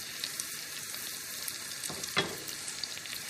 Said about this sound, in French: je fais dorer mes gros palets de polenta dans le beurre mousseux